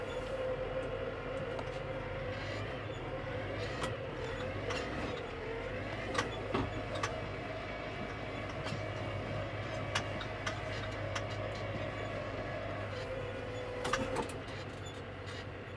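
A stuck New Holland tractor strains in reverse with the diff lock engaged, its engine holding a steady low drone for a long stretch while scattered clanks and rattles come through.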